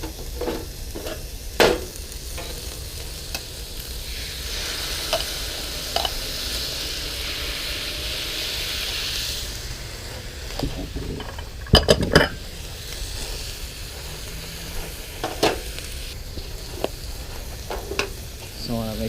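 Cheesesteak meat searing on a flat top griddle, with a steady broad sizzle, a few loud spatula clanks and scrapes on the metal, and brief background voices.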